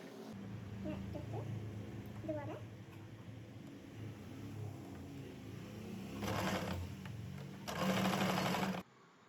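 A sewing machine stitching a kurti, heard as a soft, steady mechanical whirr and patter. Short louder bursts of stitching come near the end, with faint indoor background sounds throughout.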